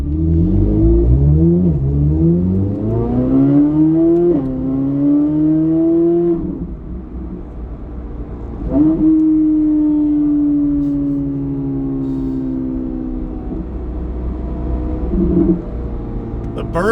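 A modified C8 Corvette Z06 with a new exhaust revs hard through rising engine sweeps, then drops through downshifts with crackling burbles and a lingering rumble, loud and close.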